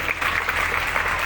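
Sustained applause from an audience at a live comedy show during the Kalidas Mahotsav festival, a dense, steady clatter of clapping hands filling the whole moment without any voices.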